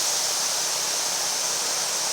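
Steady, even hiss of compressed air flowing through a paint spray gun turned down low, a soft broadband rush that holds constant with no voices.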